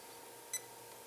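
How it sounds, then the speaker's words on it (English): A single short, high electronic beep from a multimeter continuity test sounds near the middle, brief and clear against a quiet background hum. "it'll beep to show you there's power. I mean, there's a connection between them"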